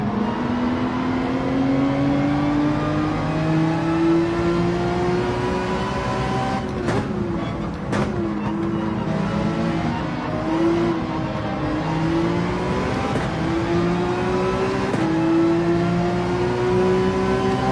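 A race car engine in Gran Turismo 7 at the Nürburgring drones loud and constant, pitch rising and falling through gear changes as the throttle is eased and reapplied, with a couple of brief clicks and no speech.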